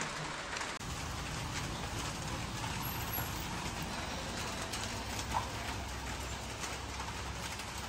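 Steady rain falling outdoors near a waterfall area, a constant close hiss of drops on surfaces filling the whole stretch, with faint bird calls and a distant vehicle rumble underneath.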